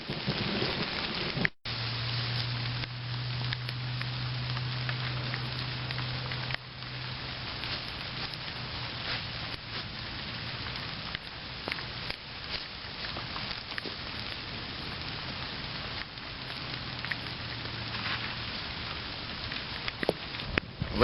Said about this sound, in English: it sounds like that storm is settling in